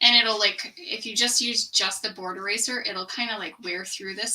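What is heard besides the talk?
None of the usual background noises is heard.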